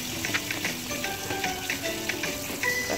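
Pork ribs deep frying in hot oil, a steady close sizzle and crackle with bursts of popping throughout, with no talking.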